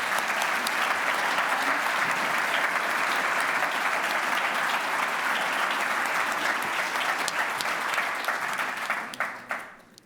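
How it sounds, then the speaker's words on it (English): Sustained, even applause from a ceremony audience honoring three essay competition finalists, a thick wash of clapping holding steady for several seconds before thinning to a few scattered claps and fading out. "a big round of applause for our 3 finalists."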